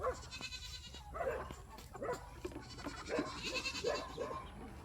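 Several goats bleating at feeding time on a farm, repeated overlapping calls at moderate distance with low background rumble.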